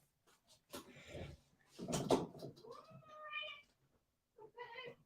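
A house cat meows repeatedly up close, giving drawn-out, rising, wavering cries in a couple of bursts with short quiet gaps between them.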